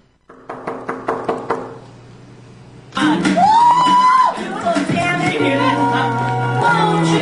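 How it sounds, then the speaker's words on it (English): Several sharp knocks on a door come in a quick, evenly spaced series, close and clear, followed by louder indoor sounds and a voice. "I think I heard a knock."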